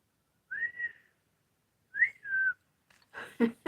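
Two short whistled phrases, each a rising-then-falling tone, separated by silence, followed by a brief burst of talking at the end.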